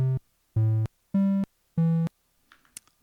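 Four short buzzy Woovebox synth notes with zero release, each stopping abruptly with no tail, spaced evenly with silent gaps, then a few faint clicks.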